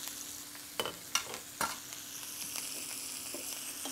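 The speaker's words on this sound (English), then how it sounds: "Go ahead and add my butter in here. And then we'll baste these steaks with that butter." Steaks sizzling in a skillet as butter is added for basting, a steady bright frying hiss with a few sharp spoon scrapes and clinks against the pan, no voices.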